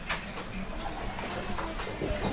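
Pigeons in a loft make soft cooing and light fluttering sounds against steady background noise, with no talking.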